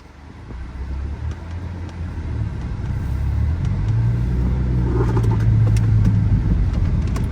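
A 2003 Honda City 1.5 automatic on a test drive, heard from inside as a low engine rumble that swells steadily as the car accelerates, with faint ticks throughout.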